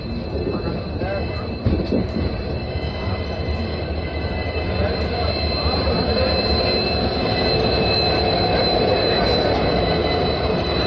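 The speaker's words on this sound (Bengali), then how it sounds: "আমরা আমাদের ডেস্টিনেশন মানে শিলিগুড়ি জংশনে ঢুকছি।" An Intercity Express pulling into Siliguri Junction on the Balurghat to Siliguri run, with a loud, steady rumble of wheels on rails and metallic wheel squeal running throughout.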